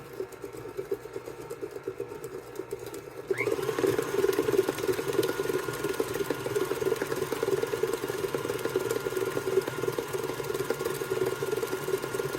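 An electric mixer beats gluten-free chocolate chip cookie batter, starting up after a few quiet seconds and then whirring in a steady, even mechanical drone close by.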